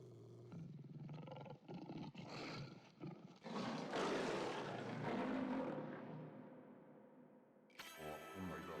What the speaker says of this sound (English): Roar, I say! I'm a tiger.